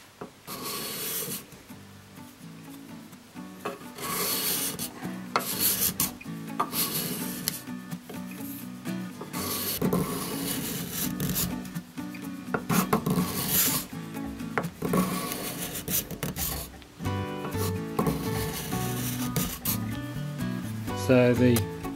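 A steel Stihl 404 chainsaw file rasps across a piece of red gum wood in repeated back-and-forth strokes, loud and close, with short pauses between bursts of scraping.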